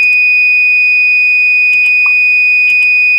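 An Arduino-driven buzzer sounds a steady, piercing high tone that holds unbroken, with a few faint clicks and a brief chirp in the background, no voices.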